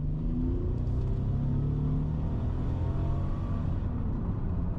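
Bentley Continental accelerating hard from 0 to 100, a deep, steady engine roar heard from inside the cabin, pitch climbing through the gears with brief shifts, loud and unbroken throughout.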